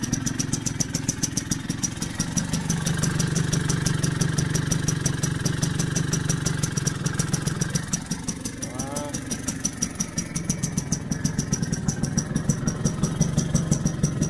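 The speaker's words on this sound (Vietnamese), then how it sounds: "chút nữa cho nó nổ máy nha" A 1983 Vespa P200E scooter idles close by after starting, its small two-stroke engine putting out a fast, even clattering putter that holds steady throughout, with a person speaking briefly partway through.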